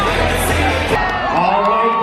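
Girls cheering and whooping at a basketball game, a dense, loud crowd roar with overlapping yells that continues steadily throughout.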